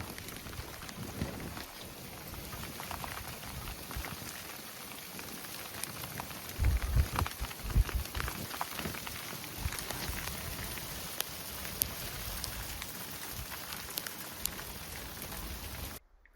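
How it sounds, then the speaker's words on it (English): Hail falling steadily outdoors in mid-May, a continuous dense patter of small impacts on a surface with a few louder hits midway, heard alone without speech. "We're in the middle of May now, and we're still getting hail."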